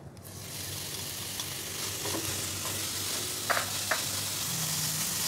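Ground meat, 300 grams, frying in a pot with a steady, close sizzle and a couple of soft stirring scrapes, while a faint low hum runs underneath.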